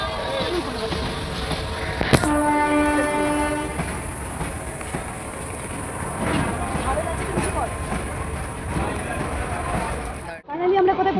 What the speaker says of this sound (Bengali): বেনারস স্টেশনে নামলাম।